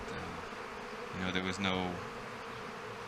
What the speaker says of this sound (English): the bees were just overrunning it